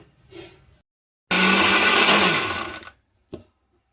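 Half a coconut shell of coconut is ground in a kitchen mixer grinder, a single loud whirring burst about a second and a half long that winds down, with faint sounds before and a brief clunk after.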